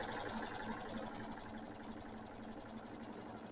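An embroidery machine stitches the batting placement line for a Kimberbell mini quilt, giving a steady, close mechanical whir and rapid needle chatter that runs evenly and alone.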